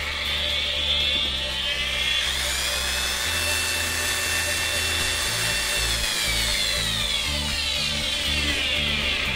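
A DeWalt DW801 angle grinder, freshly repaired with new carbon brushes and an armature bearing, runs continuously at close range with a steady high-pitched motor whine and gear hum, no speech over it.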